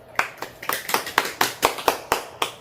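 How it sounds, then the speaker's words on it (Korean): Small-group clapping in an English vocabulary class, a steady rhythmic series of about ten distinct claps, close and evenly spaced, with no talk over them. "그렇지. 박수."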